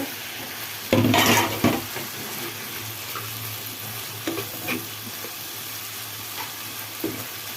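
Market fish go into a hot pan with a sudden loud sizzle burst, then frying crackles and stirring clatters continue more quietly in a home kitchen.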